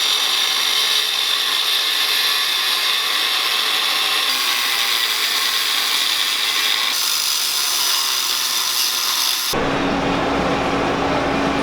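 A cutoff wheel grinds through a metal link for a truck's triangulated suspension, a loud, sustained high whine that shifts pitch as the cut progresses and ends with a drop to a lower rumble.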